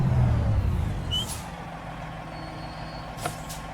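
Kenworth truck cab interior in American Truck Simulator: a low engine rumble fades as a short hiss of air brake release sounds, with faint clicks and soft cabin noise; no one talks.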